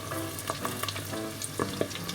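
Cheese sticks deep-frying in oil at about 170 degrees, a dense continuous bubbling sizzle with scattered pops and crackles, close and steady throughout with no voices.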